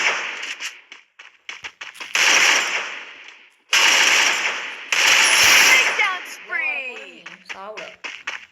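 Gunfire in the mobile battle royale game Free Fire comes as sharp repeated bursts and single shots, loud and close, broken by pauses, with a player talking over parts of it.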